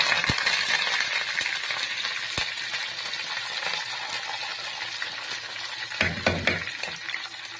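Curry leaves, cumin and tempering spices crackle in hot oil for a cucumber pickle, a loud continuous sizzle with stirring scrapes and a few sharp spatters and clatters near the end.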